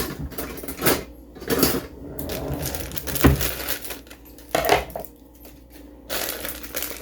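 Dry butter pecan cake mix is dumped from a box into a baking dish for a pumpkin pie dump cake, heard as several soft papery rustles and powdery crunching bursts with short pauses between them.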